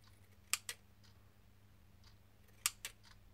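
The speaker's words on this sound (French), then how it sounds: "je prends mon ciseau cranteur et je viens mettre" Pinking scissors snip through tulle in two quick double cuts, each a pair of crisp close clicks, separated by a quiet pause over faint room hum.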